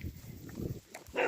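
A dog behind a hedge near a campsite gives one short, close bark at the end, after a moment of shuffling footsteps on a countryside walk.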